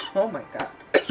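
A person coughs a few short, close, dry times in quick succession, with a brief vocal sound between the coughs.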